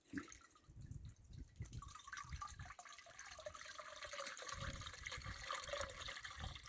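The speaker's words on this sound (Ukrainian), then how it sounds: "І тепер я змиваю цей препарат." Water swirls and splashes as it rinses apple-tree insecticide from a small measuring cup into a half-filled garden sprayer tank, a steady close trickling and gurgling with drips running throughout, quiet and without any talk.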